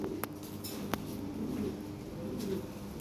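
A large yellow male Lahore pigeon coos faintly at a distance. Low, soft rumbling coos sit over a steady background hum, broken by a few brief sharp chirps or clicks.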